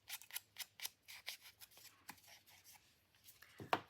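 Scissors trim a paper craft pocket with a rapid run of soft, close snips, then a few slower cuts. The cutting is quiet, with no talking.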